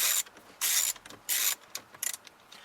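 A ratchet works loose a steering wheel bolt on a 2008 Nissan Altima, giving three bursts of bright clicking pawl, each under a second, with lighter rattles between, close and fairly quiet.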